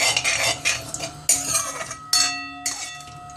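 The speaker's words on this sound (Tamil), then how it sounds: "கைவிடாமல் கிளறினால்" Thick Deepavali legiyam (Diwali marunthu) sweetened with honey is stirred in a pan. A metal spoon scrapes and clinks close by in repeated strokes, with sharp louder scrapes marking each new pass.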